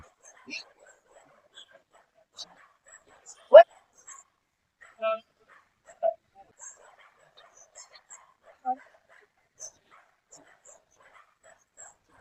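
A dog gives a few short, scattered barks and yips at moderate distance in a village street where a stray pregnant monkey has wandered in, with people talking quietly between the barks.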